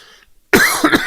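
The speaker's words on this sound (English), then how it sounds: "bear with me while I have a cough" A single harsh cough bursts out close by, followed by a couple of throaty coughing hacks, after a brief quiet pause.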